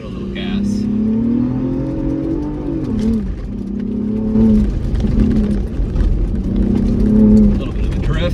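A 2025 Ford Bronco Raptor revs and accelerates across the sand dunes at Silver Lake, its engine note rising and swelling in loud surges while a voice talks over the drive.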